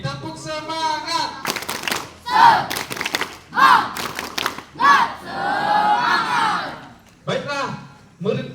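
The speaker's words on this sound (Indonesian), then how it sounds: "Oke, tepuk semangat." A crowd of students at SMP 3 Sajingan Besar school does a spirit clap, with loud rhythmic bursts of group clapping and chanting shouts that repeat several times, close and energetic.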